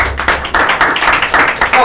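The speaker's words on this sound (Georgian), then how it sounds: "და აპლოდისმენტები საჭიროა" Applause at a televised quiz-style game show, a brief burst of clapping from a studio audience that swells in quick uneven rushes over the short clip.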